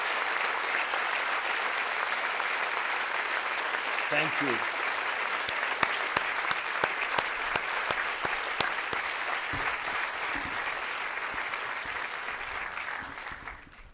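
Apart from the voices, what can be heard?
audience applause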